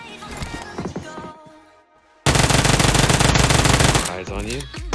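Automatic gunfire in PUBG Mobile, heard as a loud, dense sustained burst of rapid shots that starts abruptly about midway and lasts nearly two seconds, with background game sounds before and after.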